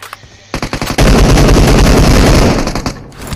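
Automatic gunfire rattles in a mobile shooter game, a few sharp bursts followed by a long, loud, sustained stream of rapid shots that fades out near the end.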